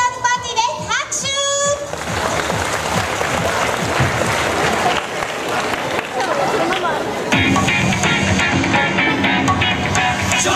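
A stadium crowd applauds at a dance party featuring cheerleaders and mascots, a broad, steady wash of clapping and cheering that holds throughout, with a sung or spoken phrase near the start and a rise in intensity toward the end.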